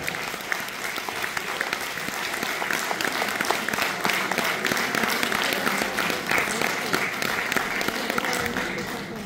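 Loud, sustained applause from a large audience at a village community hall anniversary concert in Vetrino, Bulgaria, dense clapping continuing steadily throughout with some crowd noise mixed in.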